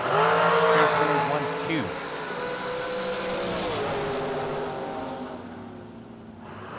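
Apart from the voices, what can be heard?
drag racing cars, dragster racing down the strip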